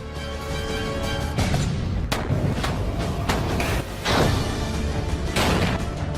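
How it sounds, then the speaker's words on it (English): Mortar rounds striking a military camp in an insurgent attack, a dense series of loud booming impacts and sharp blasts rolling one after another over a constant rumbling background, with no voices. "Insurgents have launched mortars against your camp."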